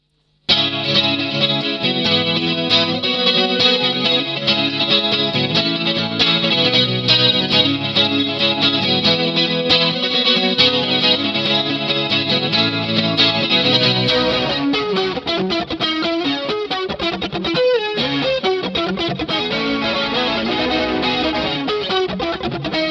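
Through a BOSS MS-3 multi-effects switcher, an electric guitar plays a busy part with a chorus-laden, lightly driven tone, and the notes run on steadily and fairly loud for over twenty seconds.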